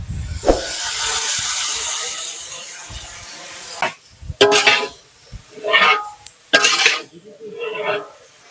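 Chili and turmeric powder hit frying pumpkin in a hot pan, giving a loud steamy hiss that fades, followed by several separate bursts of sizzling and clatter from stirring with a utensil against the pan.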